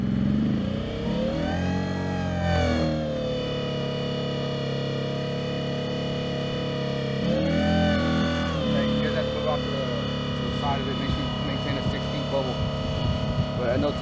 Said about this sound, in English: its two-stroke go-kart engine was too noisy